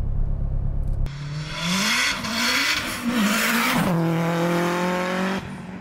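A 500 hp turbocharged K20 Honda Integra DC5 Type-R accelerates hard under boost, the engine note climbing through the revs in a loud sustained pull, briefly dipping at a shift and then rising again before cutting off.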